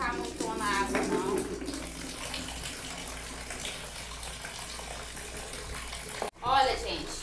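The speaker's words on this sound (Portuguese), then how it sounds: "Vou colocar logo aqui pra encher, né?" Tap water pours steadily into a basin filling up for rinsing hand-washed clothes, a continuous close splashing gush with a short break near the end, under faint talking.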